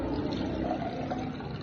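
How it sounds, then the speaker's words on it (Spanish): Water poured into a glass for a physics thermometer demonstration, a steady close splashing trickle running continuously with no talking. "le echamos el agua"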